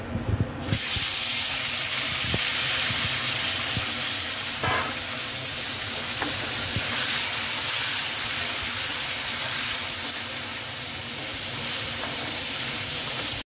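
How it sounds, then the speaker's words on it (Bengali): Magur catfish spatters and hisses in hot oil, a dense, continuous frying roar with faint crackles and pops running throughout at moderate loudness. "এই মাছটা একটু সাবধানে ভাজবেন, মুখে হেলমেট টেলমেট দিয়ে, না হলে খুবই ফুটবে।"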